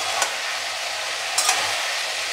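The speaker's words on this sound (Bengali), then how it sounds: "একটু ঢাকনা খুলে ভাজবো, শুকনোভাবে একটু ভেজে নিয়ে হালকা জলে ছিটে দেবো" Spices and sugar fry dry in an open pan, giving a steady soft sizzle with two brief sharper scrapes or crackles from stirring; no talking.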